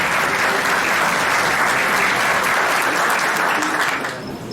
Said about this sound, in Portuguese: Vamos aplaudir com muita alegria.